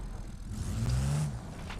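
An Ibishu car in a BeamNG.Drive video game revs, giving a brief, steady low engine drone that rises slightly in the middle, heard alone without voices.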